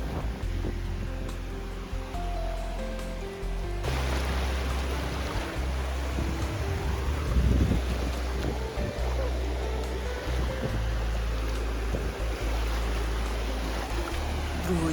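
Sea waves at Odesa wash and roar continuously with wind rumble against the microphone, swelling midway, with faint background activity throughout.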